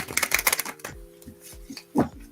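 A deck of tarot cards being shuffled up close, quick papery riffling and clattering flicks in short bursts followed by a few scattered taps, fairly loud in a quiet room.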